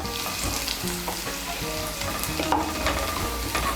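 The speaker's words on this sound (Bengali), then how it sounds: "এখন আমি এর মধ্যে দিয়ে দেব চিড়ে রাখা কাঁচা লঙ্কা" Slit green chillies go into onions already fried until browned, producing a loud, continuous sizzle with bursts of stirring and scraping in the pan; no one speaks.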